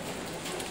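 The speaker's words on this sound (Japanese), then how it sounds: "すげえ雨、怖い怖い。" Heavy rain pours steadily onto the streets of Jiufen, Taiwan, a dense, continuous hiss of drops striking surfaces nearby, with no voices.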